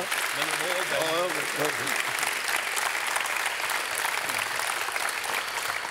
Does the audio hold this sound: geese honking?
no